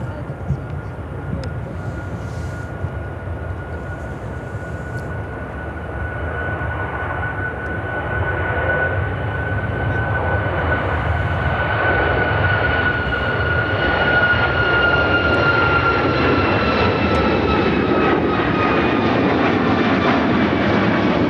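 A United Airlines Boeing 737 MAX 9 taking off from Chicago O'Hare, its jet roar building steadily from a distant whine to a loud, broad rumble with a steady high engine tone over about twenty seconds.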